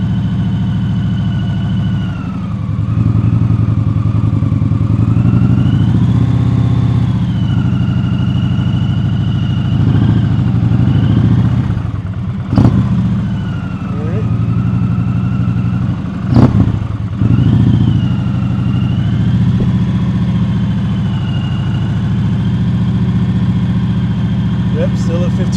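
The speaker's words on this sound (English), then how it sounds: "I got my bike at 1500 RPM. I'm going to start doing some slow stuff." An Indian motorcycle engine held around 1500 RPM at slow riding speed, a steady low idling drone with gentle rises and dips in pitch, a few sharp clicks midway.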